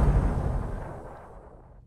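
A loud burst as barrels blow up after being shot in Amazing Frog, a single heavy boom with a deep rumble that decays over about two seconds, with no speech.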